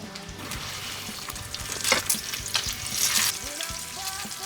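Bacon frying in a pan on a burner, a steady crackling sizzle with a few louder pops and stirring scrapes, heard alone without talk.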